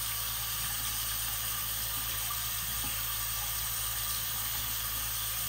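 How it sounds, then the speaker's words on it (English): Hot tap water running steadily over 3D-printed supports, a constant broad rushing hiss from start to finish with no voices. "Now I'm just going to run the hot water on the supports."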